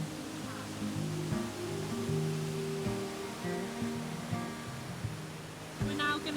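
A snowy Scottish waterfall pours in a steady, dense rush of white noise, with a low engine-like hum and occasional faint voices underneath.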